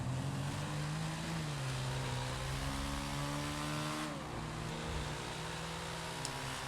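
A car engine in GTA V drones steadily while driving, its pitch easing down and then holding level in a continuous mid-loud hum.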